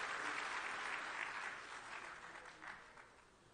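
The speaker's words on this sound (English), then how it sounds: "kindly give him a rousing and a very warm applause" Audience applause fills a closing ceremony hall at a food sovereignty and resilience summit in Dakar, steady and sustained before slowly tapering off.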